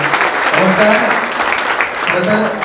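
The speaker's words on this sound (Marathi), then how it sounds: "सगळ्यांसाठी खरं तर टाळ्या झाल्याच पाहिजे" An audience at a college felicitation event breaks into a sustained burst of applause, dense and even, with voices talking over it.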